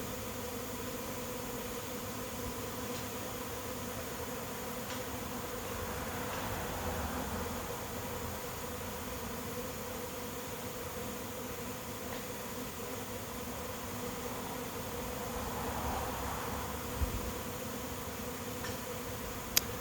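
A honey bee swarm arrives at a swarm trap outdoors, a steady faint buzzing hum of many insects that swells slightly at times, with no talk.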